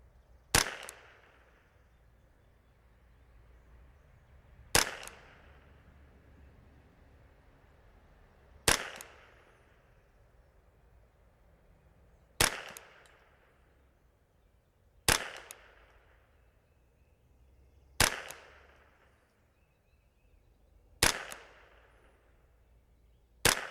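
A Ruger 10/22 rifle in .22LR fires about eight single shots outdoors, each a sharp crack spaced roughly three to four seconds apart with a short ringing tail, and no talk between them.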